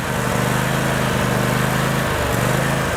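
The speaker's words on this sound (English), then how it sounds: "this is the handheld lawnmower" A handheld lawn mower's engine runs steadily, a loud, buzzing drone with a throbbing low hum and slight pulsing changes in pitch, heard close with no talk.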